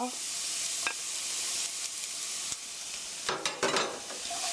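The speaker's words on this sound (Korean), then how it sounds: "대파 넣어서 대파의 향이 우러나게 볶아주세요." Sliced Welsh onion stir-fries in hot oil for kimchi fried rice, a loud steady sizzle close up, broken by scraping stirs and a few sharp utensil knocks near the end.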